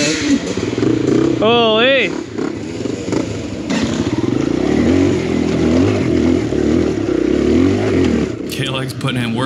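Kawasaki KLX dirt bike engine revving as it climbs an enduro trail, a loud, close, continuous rasping drone that rises and falls with throttle, while a rider talks and exclaims over it.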